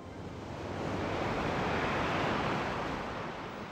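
Pounding surf breaks along the rocky southern coastline of Fernando de Noronha, Brazil, in a steady, full-bodied roar of waves and wind that swells gently and holds without pause, with no voices.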